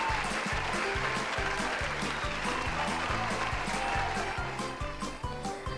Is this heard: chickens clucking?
no